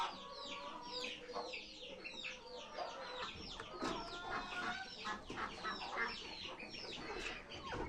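Backyard chickens in a coop cluck steadily, with many overlapping calls forming a busy, close flock chatter throughout.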